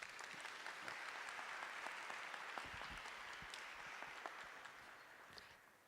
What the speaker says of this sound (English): Let's give Dr. Marco Sharavanya another round of applause